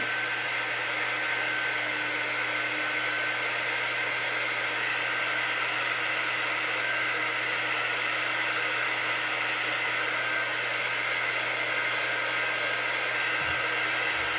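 A hair dryer blows steadily on a chalk-painted glittery Santa craft, a continuous close whir holding for the whole stretch with no talking.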